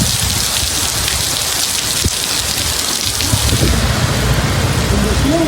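Heavy evening rain pours down in a steady, dense hiss on surfaces, loud and close, with low rumbles of thunder rolling underneath throughout.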